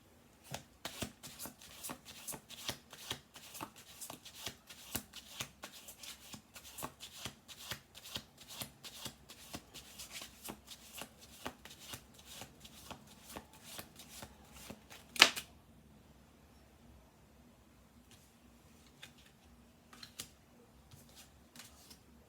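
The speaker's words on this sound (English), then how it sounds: "I went to shuffle the last two cards on the top of the deck" Tarot cards are shuffled in a long run of quick, crisp riffles. The sound is close and fairly quiet, with a sharper snap near the end and then a few scattered soft flicks.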